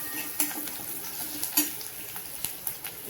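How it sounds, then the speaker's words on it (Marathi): Curry leaves sauté in oil in a pan, a soft steady sizzle broken by several sharp spoon scrapes and taps against the metal. "कढीपत्ता पण चांगला असा परतून घ्यायचा."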